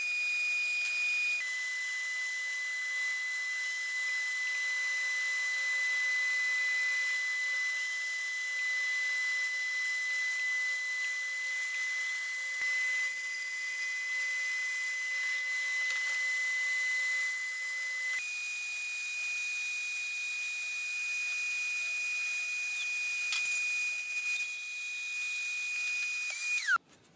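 Bandsaw with a quarter-inch Harbor Freight wood-cutting blade cutting out a wooden Uncle Sam whirligig figure, a steady high-pitched whine running nearly half a minute with slight pitch shifts as the cut proceeds, then winding down.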